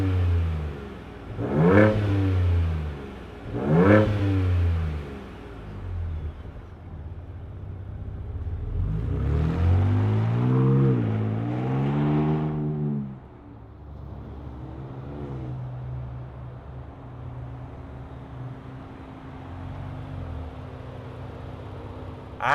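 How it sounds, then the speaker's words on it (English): A 2025 Ford Ranger Raptor off-road pickup starts up, then gives two sharp revs, a longer swelling rev and a few lighter blips before settling into a steady idle, close and loud. "let's fire up this Baja-inspired off-roader and hear what it sounds like."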